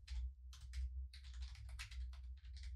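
Steady bursts of typing on a computer keyboard as a website URL is entered, close and clear with short pauses between runs of keystrokes and no talk.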